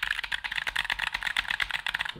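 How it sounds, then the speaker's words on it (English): Someone types quickly on a Keychron K3 Max low-profile mechanical keyboard, producing a close, crisp, rapid stream of clicky keystrokes at an even rhythm, with no voices. "This is the Keychron K3 Max. It's a mechanical keyboard."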